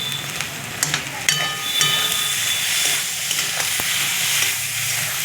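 Grated coconut fries in a pan with a steady, close sizzle and hiss, broken by a few sharp scraping clicks of stirring, with no one talking.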